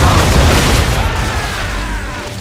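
A broadside of ship cannons in Assassin's Creed 3 goes off as one loud, heavy boom that rolls into a dense, fading rumble.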